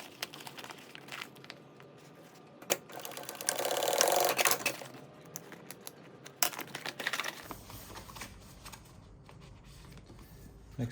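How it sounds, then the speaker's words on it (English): A sewing machine stitches labels onto a fabric bikepacking tool pouch, running in short bursts with a louder sustained run in the middle, plus handling rustles between stitches. "sew on our labels"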